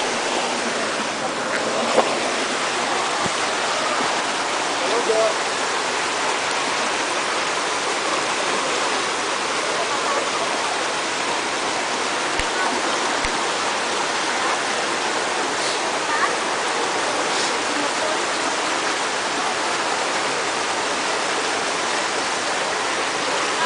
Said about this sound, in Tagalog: Okay, malakas sa agos, ha?